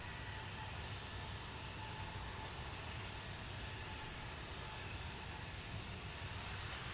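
An Airbus A321 in a special livery at DFW airport gives a faint, steady, broad rumbling roar from a distance, unbroken for the whole stretch.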